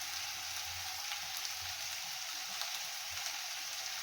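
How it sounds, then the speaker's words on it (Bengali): Potato and pointed gourd frying in oil in a pan, a dense, even, rain-like sizzle that stays close and steady throughout, with faint low thumps beneath it. "আমি এটাকে ভালো করে এই তেলের সাথে আলু পটলের সাথে ভালো করে কষাবো।"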